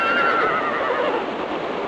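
A horse in the PS2 game Barbie Horse Adventures: Wild Horse Rescue gives a loud, close whinny that drops in pitch across a couple of seconds, with faint hoof clopping underneath.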